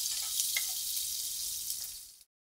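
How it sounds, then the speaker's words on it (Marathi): Cumin seeds and finely chopped green chillies fry in a pan while being stirred, a loud, close, steady sizzle with faint scraping that cuts off abruptly. "जिरे छान फुलले की त्याच्यामध्ये 2 ते 3 बारीक चिरलेल्या मिरच्या घातल्यात मी आणि आता हे छान आपण व्यवस्थित हलवून घेऊया"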